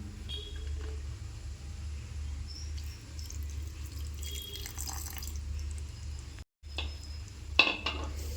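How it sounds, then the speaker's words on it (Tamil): Water pours and trickles into a grinding vessel over a steady low hum, with a few clinks near the end; no one speaks. "கொஞ்சம் நம்ம அந்த பாத்திரத்துலேயே தண்ணி ஒரு முழுங்க அளவுக்கு கலந்து இதில் சேர்த்துக்கலாம்."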